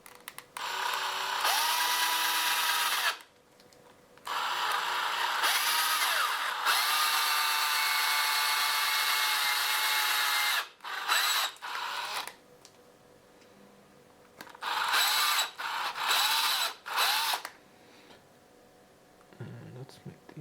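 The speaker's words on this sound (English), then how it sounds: "when I start to drill" A power drill whines in several long bursts close up, boring into a fishing lure, starting and stopping repeatedly with quiet gaps between runs.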